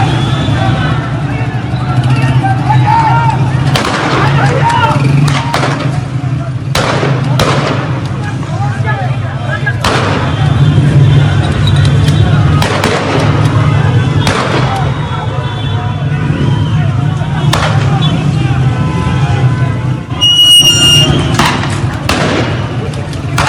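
Gunfire at an Iranian street protest, with scattered sharp cracks and thuds cutting through a dense, steady roar of crowd noise and shouting voices throughout.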